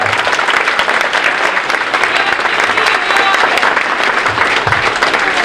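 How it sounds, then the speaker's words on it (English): A crowd at a winter school sports awards ceremony gives the girls gymnastics team a loud, continuous round of applause, thick and steady clapping filling the whole stretch. "So how about a round of applause for the girls gymnastics team?"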